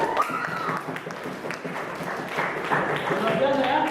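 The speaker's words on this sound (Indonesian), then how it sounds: "tepuk tangan buat kita semua" Applause from a group of teachers and participants at a teacher-training session, a steady patter of clapping mixed with voices and talk throughout.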